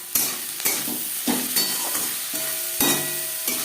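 Onions fry in a pan with turmeric and salt, a steady sizzle broken by repeated scraping strokes of a spatula at an uneven rhythm, close and fairly loud.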